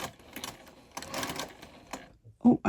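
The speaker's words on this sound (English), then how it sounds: "I'm just going to sew with a 1/4 inch seam allowance right around the whole top of our Christmas stocking now," Sewing machine stitching all the layers around the top of a Christmas stocking with a quarter-inch seam, running in short bursts with pauses between them, close by and moderately loud.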